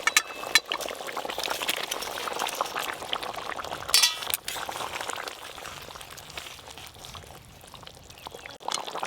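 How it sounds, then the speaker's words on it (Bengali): Tilapia fish curry broth boils in a cooking pot, a steady bubbling burble with a faint clink of metal or glass near the middle. "একদম টকবকে হয়ে ঝোল ফুটে গেছে"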